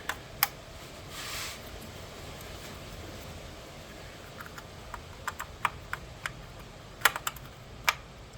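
Electrical connectors pushed back into place on a 2016 Ford Fiesta SE engine during a valve cover gasket job, heard as a string of sharp, faint clicks, some in quick pairs, over a low steady background hum.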